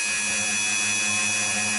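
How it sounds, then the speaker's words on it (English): A power drill spins steadily while boring small screw holes during the setup of a Vintage Icon V6, giving a continuous whirring motor tone with no talk. "I'm going to drill 3 more little holes and fit the last 3 screws"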